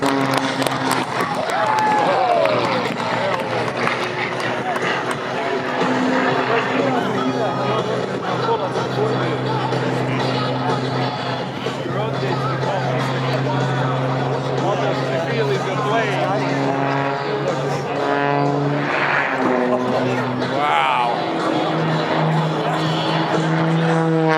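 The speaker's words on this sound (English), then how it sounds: "The airplane flown by Rob Holland today is the MXSRH, built especially for him" Rob Holland's MXSRH aerobatic airplane, built for him by MX Aircraft, drones steadily at the Thunder Over New Hampshire air show, a continuous engine hum beneath crowd murmur and ongoing talk.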